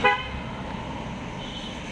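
A car sounds a short horn toot at the start, then passes along a street in Nashik, leaving a steady low rumble of road traffic at moderate distance.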